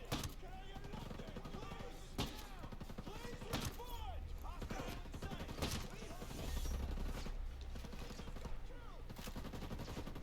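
Shotgun blasts in a Ghost Recon Breakpoint firefight ring out as sharp, repeated bangs at irregular intervals over constant game noise, with someone talking throughout.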